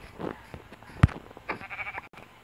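A sheep bleats in the video game Minecraft, a short loud call near the middle with faint game sounds and a few softer bleats around it.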